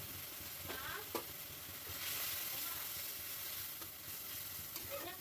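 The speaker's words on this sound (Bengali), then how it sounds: "আর ভালো করে মশলাটাকে নেড়ে নেব" Masala for potol posto fries with tomato paste, sambar masala, cumin powder and turmeric, a steady close sizzle and hiss with a few soft spoon scrapes as it is stirred, no voices over it.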